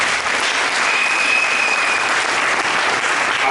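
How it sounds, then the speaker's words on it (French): Congregation applauding during a church worship service, steady dense clapping from many hands that holds evenly throughout, with a faint cheer or whistle tone rising briefly in the middle. "Acclamons le Seigneur pour cette personne."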